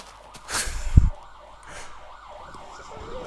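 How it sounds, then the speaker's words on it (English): A faint ambulance siren passes outside a house, its wavering wail rising in the distance after a couple of sharp knocks and thumps nearby. "here comes a fucking ambulance now."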